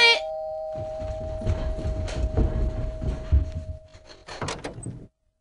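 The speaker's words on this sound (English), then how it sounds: "the doorbell rang." A doorbell chimes at the start with a clear, sustained ringing tone, then people talk and move about, with bumping and shuffling noises before the sound cuts off abruptly.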